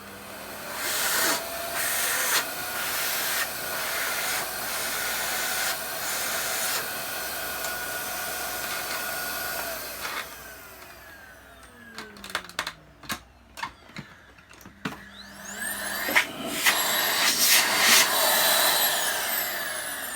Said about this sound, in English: So if I put it on, switch it on.